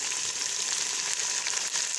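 Ginger garlic paste and tomato frying with browned onions in a pan, giving a loud, steady, close sizzle that runs unbroken throughout.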